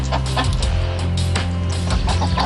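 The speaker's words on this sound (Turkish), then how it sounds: "Tak da şu tavuğu da peşimize." A chicken clucks steadily and close by in an outdoor rural setting, its short repeated calls layered over a constant low rumble with no talk.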